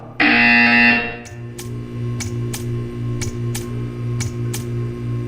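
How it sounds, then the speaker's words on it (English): In the video game Portal 2, a loud buzzer with a harmonic tone sounds for about a second. It is followed by a steady low hum and a run of sharp, evenly spaced ticks. "You will hear a buzzer."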